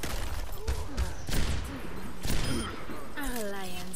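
Overwatch gunfire: a few sharp, loud shots spaced irregularly through the stretch, mixed with busy game noise, with a voice talking over them.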